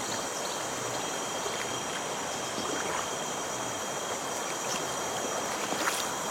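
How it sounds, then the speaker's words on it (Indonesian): Deep, clear jungle river water rushes steadily and close, a constant broadband wash with small splashes breaking through, no voices heard. "Ini adalah air sungai mendalam teman-teman"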